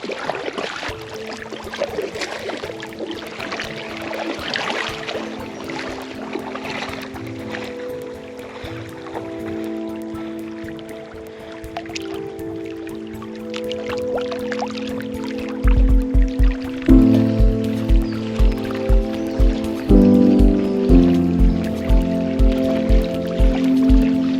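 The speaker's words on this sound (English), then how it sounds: "Let's see how it is paddling into this headwind." A packraft being paddled through loch water into a headwind in Scotland: a steady wash of water and wind runs throughout, and rhythmic paddle strokes thump and splash more strongly in the second half.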